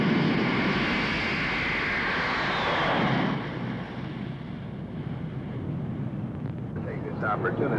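Commercial airliner jet engines roar steadily at liftoff, a loud broadband rumble that drops in level after a few seconds and continues as a softer drone with wind buffeting.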